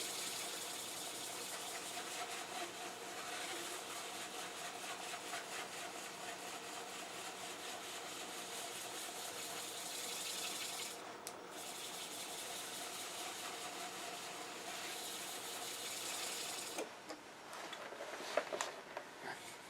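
A wooden door stopper spins on a lathe at slowed speed while finish is rubbed back and forth on it, giving a steady faint hiss and whir with a few brief disturbances near the end.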